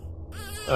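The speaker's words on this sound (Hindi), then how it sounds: "कहीं बच्चा रो रहा है?" A small baby whimpers and starts to cry in a Hindi horror tale, a thin wail rising and growing louder near the end over a low background hum.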